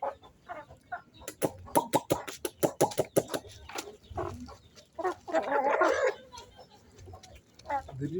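Farm chickens clucking and squawking near the camera as they gather for ugali, a busy run of sharp clucks followed by a burst of louder cackling, close and lively.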